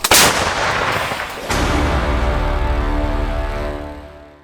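A heavy artillery gun fires with a sharp blast, followed by a second booming report and a long rumbling roll that slowly fades.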